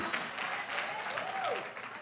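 Sustained applause from a conference audience, dense and continuous for the whole stretch, with a faint voice rising above the clapping near the end.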